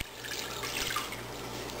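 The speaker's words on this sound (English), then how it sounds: "first we're going to add our warm water" Warm water pours into a bowl for whole wheat bun dough, a short, close, steady liquid trickle and splash with no talking.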